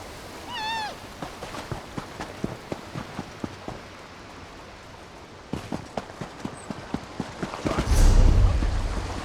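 Cat meows in Elder Scrolls Online, a rising mew near the start followed by soft rhythmic footsteps, with a louder burst of rain-like noise toward the end.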